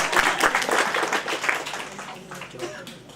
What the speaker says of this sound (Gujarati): જોરથી તાળી પાડી ગયા